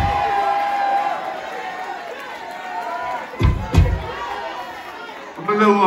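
Concert crowd at a hip hop gala at Sony Hall, a murmuring chatter of many voices with scattered shouts and a couple of loud whoops, someone talking over it near the end.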